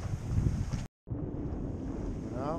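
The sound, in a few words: wind on a sailboat at sea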